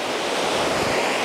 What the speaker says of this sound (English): today it's very windy